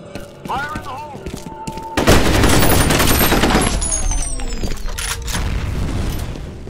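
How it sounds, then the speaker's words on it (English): A grenade blast in the multiplayer shooter F.E.A.R. Combat on the Docks map: a loud, sudden boom followed by a long roaring rumble and ongoing gunfire, with a brief voice before it. "Fire in the hole! Grenade out!"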